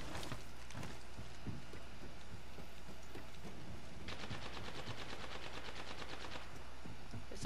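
Rapid automatic gunfire from an R99 submachine gun and other weapons during a firefight in the battle-royale game Apex Legends, bursts of sharp shots rattling continuously with a dense volley in the middle, no talk.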